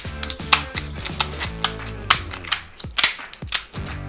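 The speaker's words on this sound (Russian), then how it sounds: "С помощью ножниц надрезаем панцирь." Kitchen scissors snip through Caribbean lobster tail shells in a quick series of sharp, close crunching clicks and cracks, irregular in rhythm, with no talking.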